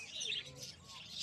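Birds at a pet market, budgies among them, chirp and tweet in quick overlapping bursts, close and fairly busy, with no talk over them.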